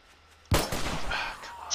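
A single loud gunshot in the survival video game 7 Days to Die, set in the desert biome: a sudden sharp blast after near silence, followed by a rumbling decaying tail and faint background game noise.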